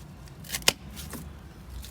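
Pruning shears snip through the old fruited stems of a thornless blackberry plant, giving one sharp, close cut with a couple of fainter clicks around it, alone against quiet outdoor background.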